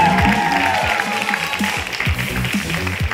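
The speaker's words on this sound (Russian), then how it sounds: "И под ваши аплодисменты мы начинаем!" Studio audience applause opens a children's comedy TV show in Russia, loud and close clapping with cheering and crowd noise layered over upbeat music, a sustained burst over the whole stretch.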